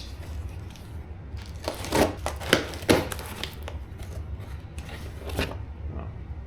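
Cardboard packaging from a 2024 Knolly Chilcotin mountain bike box being opened, with a cluster of sharp tearing, crinkling and cutting noises up close, then quieter rustling.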